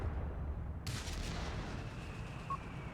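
Airburst artillery shells firing in the World War II strategy game Company of Heroes 3, a sudden sharp boom that rolls into a sustained rumbling of battle noise.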